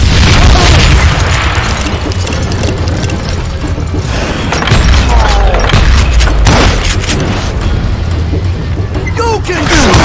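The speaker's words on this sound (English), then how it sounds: "throw dynamite!" A string of loud dynamite blasts and booming gunfire rolls through a Wild West shootout in Call of Juarez Gunslinger. Debris shatters and crackles between the heavy thuds, and a character shouts over the din.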